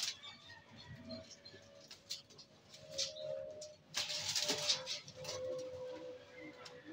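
A pigeon coos softly, in low repeated notes under faint background noise and a few brighter chirps.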